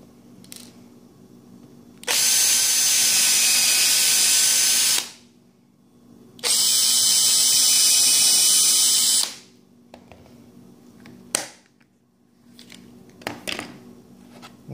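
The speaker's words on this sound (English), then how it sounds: "the drill bit is set to go through this right here, and then just far enough to pre-drill for the screw" Two sustained bursts of a power drill whirring, each about three seconds, pre-drilling screw holes in a shelf, separated by a pause, followed by a few light knocks and clicks.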